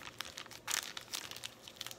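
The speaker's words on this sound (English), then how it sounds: "Put a plastic bag on top of it." Plastic bag crinkling as it is slipped over a freshly sealed fruit tree graft, with close, soft crumpling rustles and a brief louder crinkle partway through.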